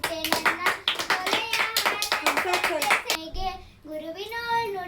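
A group of people clap together in a quick, steady rhythm at a birthday party while a voice sings. The clapping stops after about three seconds and the singing carries on alone.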